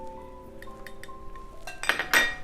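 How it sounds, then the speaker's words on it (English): A utensil clinks and scrapes against a bowl while softened butter is mixed with garlic powder, chili powder and salt, with a few light taps followed by louder metallic clinks near the end, close up and without talk. "we're going to just start mixing this"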